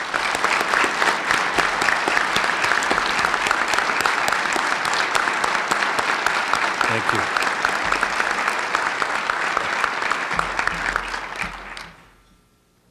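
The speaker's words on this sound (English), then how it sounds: "Let's give them all a round of applause." Sustained audience applause at a Medal of Valor ceremony honoring a police officer, dense steady clapping filling the room before tapering off near the end, with a brief spoken thanks.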